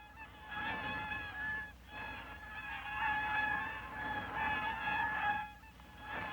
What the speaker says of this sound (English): Oh! It was the wild swans.